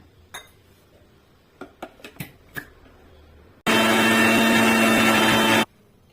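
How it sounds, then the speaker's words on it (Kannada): A kitchen mixer grinder whirs loudly and steadily for about two seconds, blending spinach with green chilli, ginger-garlic paste and water, after a few soft clinks of utensils. "ಸ್ವಲ್ಪ ನೀರು ಹಾಕೊಂಡು ಮಿಕ್ಸಿ ಮಾಡ್ಕೊಂಬರೋಣ"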